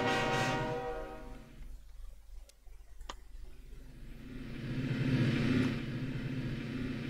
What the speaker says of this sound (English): Drive the passenger train down the first rail line